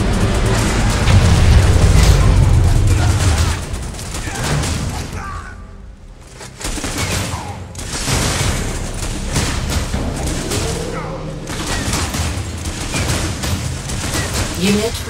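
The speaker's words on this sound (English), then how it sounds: "Missile launched." Missile launch and blasts from the mobile strategy game Command & Conquer Rivals, a heavy booming burst up front followed by repeated dense explosive rumbles and thuds, with game voice lines and talk mixed in.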